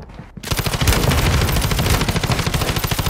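Light machine gun in the Warzone game firing long, rapid sustained bursts, loud and close, after a brief quiet start.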